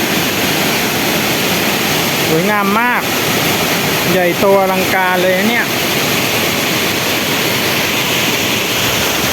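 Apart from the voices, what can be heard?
Mae Klang waterfall, Doi Inthanon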